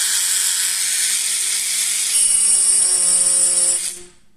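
A Parkside cordless engraving tool runs steadily at its medium setting 2, giving a close, high, grinding whine with a constant tone that winds down and stops at the end.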